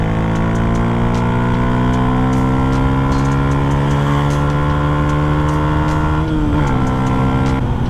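A Yamaha MT125 motorcycle engine pulls hard while overtaking on a road, its loud, close, continuous drone climbing steadily in pitch over rushing wind noise.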